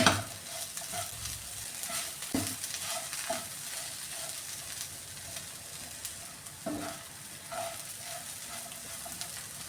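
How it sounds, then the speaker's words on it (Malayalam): Raw banana stir fry being stirred in a hot pan, with a continuous sizzle broken by several sharp scrapes and taps of a spatula against the metal at irregular intervals. "ഇത് ഇടയ്ക്ക് ഇങ്ങനെ ഇളക്കി കൊടുക്കണേ"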